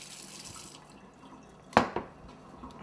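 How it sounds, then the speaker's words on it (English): Two quick splashy bursts of water, the first louder, trickling into sugar in a quiet room. "I may just put a little bit more water in"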